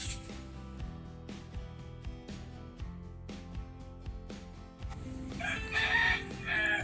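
A rooster crows once toward the end, rising over rhythmic background music with plucked, repeating notes.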